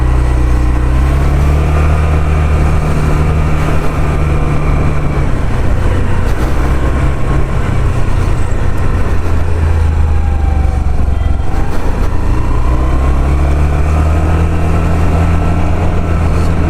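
Honda Activa 125 scooter engine running steadily while riding, a continuous close, loud drone with a slight rise and dip in pitch midway, no talking.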